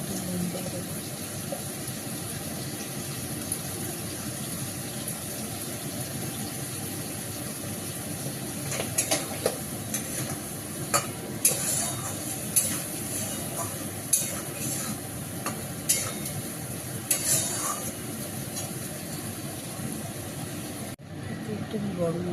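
Curry is stirred in a pan, with a steady low sizzle and scraping running throughout and a run of sharper clinks and scrapes in the middle, then the sound cuts off near the end.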